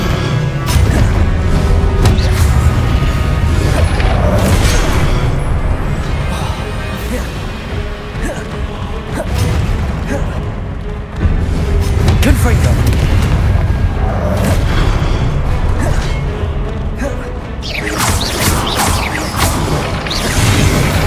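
Booming fiery blasts from the Confringo curse in a Hogwarts Legacy boss battle, loud dense explosions and whooshes layered continuously under game speech and music.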